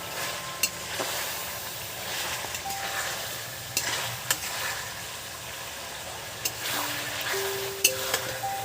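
Tomatoes and coriander leaves sizzle and fry in a pan for chicken pulao, with steady close sizzling broken by occasional sharp stirring clinks and scrapes throughout.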